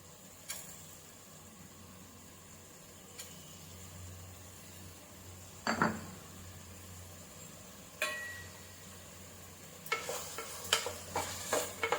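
Ginger garlic paste saute in a pan for vegetable pulao, a quiet low sizzle under a steady background hum, with occasional spoon scrapes and a cluster of clinks near the end.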